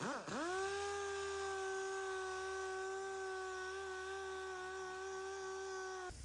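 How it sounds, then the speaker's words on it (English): A steady, droning power-tool whine with a constant harmonic hum runs throughout, close and loud, as a chrome rear bumper is sanded with 180-grit sandpaper; no talking. "Let's get to sanding on this thing, see what it takes to cut it."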